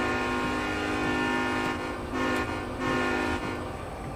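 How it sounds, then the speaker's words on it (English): Locomotive running along the Sherman Hill line in Train Sim World 2, a steady loud engine drone with a sustained rich harmonic tone that swells and dips slightly, no voices. "It is a beautiful locomotive."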